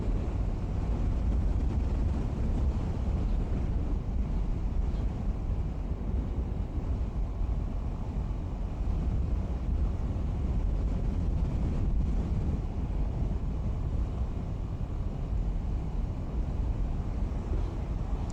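Wind roars steadily against the microphone during a ride on a Suzuki Burgman Street 125 scooter along a road in Ilocos Sur, a constant low rumble with no speech.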